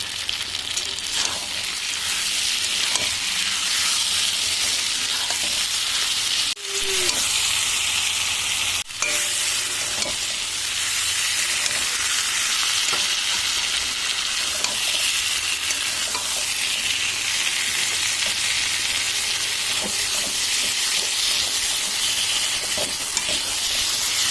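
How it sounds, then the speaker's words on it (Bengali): Meat fries loudly and continuously in a pan with slit green chillies and peeled garlic added, giving a dense unbroken sizzle with a couple of sharp clacks of a utensil against the pot. "এবার আমি দিয়ে দিচ্ছি কয়েকটা চেরা কাঁচা লঙ্কা, আর দিচ্ছি ছাড়িয়ে রাখা কয়েকটা রসুন।"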